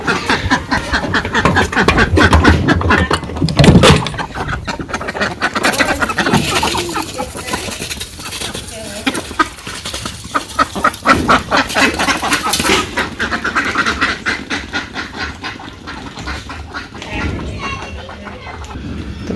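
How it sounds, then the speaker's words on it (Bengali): Ducks quack in a repeated, scattered flurry as they are let out in the morning in a rural village, with voices and children at play nearby. "ভাবছি সকালবেলা আগে হাঁসগুলা ছাইড়ে দিই"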